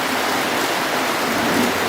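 A sudden downpour falls steadily and loudly nearby, a dense, even hiss of rain on surfaces with no pauses.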